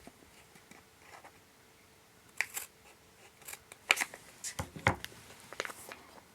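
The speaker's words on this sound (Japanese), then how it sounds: "この中心の折り筋のところにハサミで切り込みを入れます。" Scissors snip a slit into folded origami paper during a heart-shaped pop-it toy craft, several crisp close snips and paper rustles clustered in the second half, quiet and without talk.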